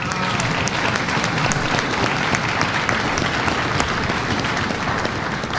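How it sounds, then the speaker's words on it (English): A crowd at a New York exhibit opening honoring prominent African-American New Yorkers gives Senator Sampson steady, dense applause that holds at an even level throughout. "Let's give him a round of applause"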